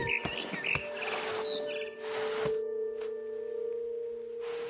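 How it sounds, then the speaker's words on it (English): A barn swallow chirps in the What Remains of Edith Finch video game with a few quick, bright tweets close by at the start, then sparser calls over a steady tonal hum, with no talk. "Then I heard chirping outside my window. It was a barn swallow going back to her nest."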